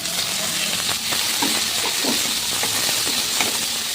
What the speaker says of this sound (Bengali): তারপরে টমেটো দিয়ে ভেজে নেব।